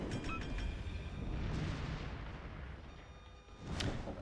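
Cruiser Baltimore firing its guns in a naval video game: distant rumbling artillery booms rolling under a steady wash of battle noise, with a sharper crack near the end.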